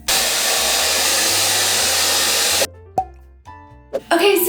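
A hair dryer roars loudly and steadily up close while blow-drying long hair, then cuts off abruptly, followed by a few soft handling knocks and a brief restart.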